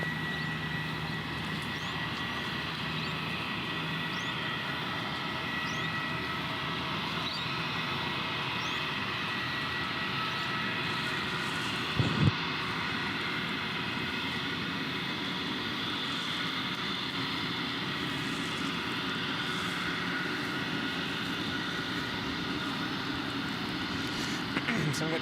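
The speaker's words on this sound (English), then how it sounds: "So we've got Jetstar 403 now lining up off to Sydney." A Jetstar airliner lines up on the runway at Gold Coast Airport in heavy rain, its engines giving a steady, distant roar and hum beneath continuous rain noise, with a person talking over it.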